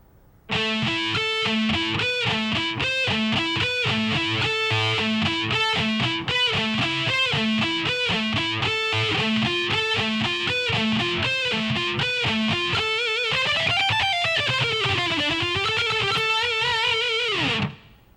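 Electric guitar played with a driven tone, running a shred lick at a slowed tempo: a steady stream of picked notes for about twelve seconds, then a few sustained, bent notes ringing before a sudden stop, with no talking.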